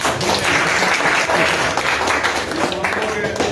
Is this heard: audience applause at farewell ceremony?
yes